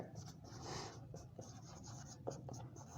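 Pen scratching steadily on paper while writing out a maths solution, faint continuous strokes with small taps, under a low background hum and soft intermittent talk.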